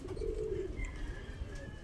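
A stray racing pigeon coos in a low, soft, rounded call near the start. Faint background noise and a thin high tone run underneath, and no one speaks.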